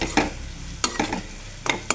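Ginger garlic paste being stirred and sautéed in a pan, heard as a few short separate scrapes and sizzling bursts close by against a quiet background, with no talking.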